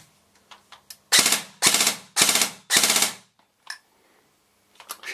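Elite Force BR4 bolt-action airsoft rifle firing four bursts of loud, sharp, rattling shots in quick succession, with faint clicks and handling noise between them and no talking.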